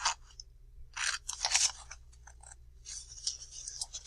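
Scissors snip through paper during a letter C craft, with several short crisp cuts coming in uneven bursts close up, separated by brief pauses.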